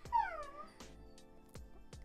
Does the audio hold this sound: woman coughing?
no